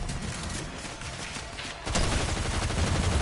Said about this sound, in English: Oh, I saw the fireworks.